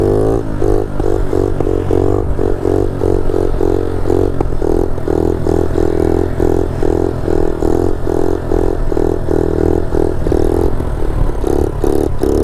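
A motorcycle revs hard while doing a wheelie on the road. The loud, close engine drone pulses steadily throughout, with no talk.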